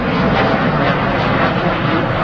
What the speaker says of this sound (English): I always forget how good them XWBs sound.